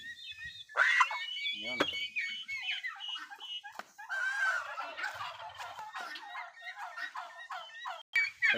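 Red Bourbon turkeys gobbling on a farm, several loud rattling gobbles close by in repeated bursts, with a few brief chirps and other bird calls between them.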